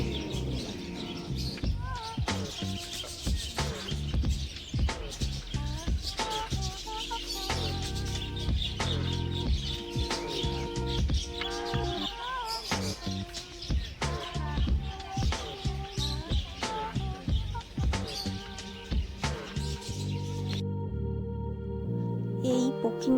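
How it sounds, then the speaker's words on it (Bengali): Many birds chirp and call continuously nearby at the Kulik Forest bird sanctuary in Raiganj, a busy mixed chorus with clucking fowl among the tweets. "এদিকে পাখিদের কিচিমিচি আওয়াজে কিন্তু মনটা পুরো ভরে যাবে"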